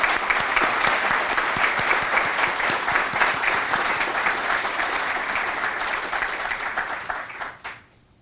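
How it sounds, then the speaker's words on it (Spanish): An audience at a university faculty gathering applauds in thanks, a dense, sustained wash of many hands clapping that stays loud and steady before tapering off quickly at the end. "no escatimamos brindarle de nuevo nuestro aplauso de agradecimiento"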